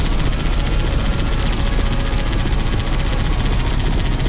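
A helicopter in the Halo 3 video game roars loudly and steadily, with engine drone and rotor noise mixed with bursts of gunfire in the game action.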